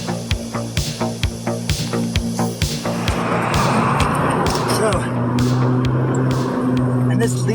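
A Sterling Nova kit car with a swapped-in Subaru engine first gives quick rhythmic clicks, then sets off down the road with a steady engine drone and a rising whoosh of wind and tyre noise.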